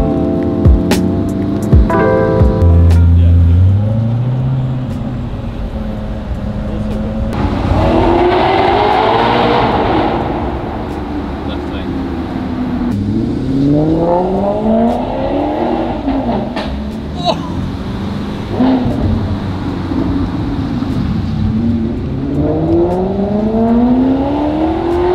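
A supercar's V8 engine in race mode roars past and revs, rising and falling through gear changes with rasping upshifts, loud and near, while people talk briefly over it.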